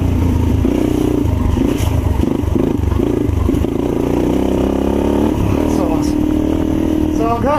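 A modded, regeared and rejetted 2016 Yamaha TTR230 dirt bike engine drones and revs loudly while riding a trail, with rising and falling pitch, and someone talks over it throughout.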